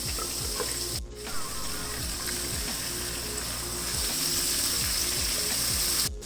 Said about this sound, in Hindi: ये ग्राइंडर को भी अच्छी तरह मैंने साफ़ करके इसका पानी इसमें डालने लगी हूँ